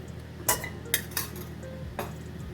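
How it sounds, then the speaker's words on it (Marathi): Tejphool spice being dry-roasted in a pan for a Vidarbha-style masala, heard as a few sharp metallic clinks and scrapes of a utensil against the pan, spaced apart over a faint steady background. "आता आपण तेजफूल भाजून घ्यायचं थोडं"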